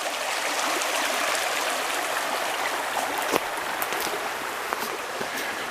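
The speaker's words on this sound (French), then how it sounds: "C'est une rivière extraordinaire" The Léguer river at Coat an Noz flows as a steady stream, its broad continuous rushing and gurgling close by, with a few brief splashes and drips standing out near the end and no one speaking.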